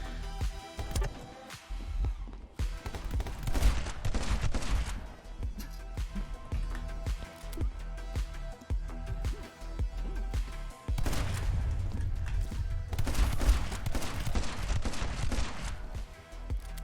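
Gunfire in the action game My Friend Pedro, with a dense, steady stream of shots and impacts layered over a busy, loud backdrop that keeps going through the whole stretch.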